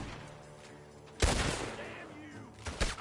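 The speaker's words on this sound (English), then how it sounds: "The gunshots are coming from..." Gunfire in Red Dead Redemption 2 erupts as a loud burst of several rapid shots after a quieter start, with another volley near the end and people talking over it.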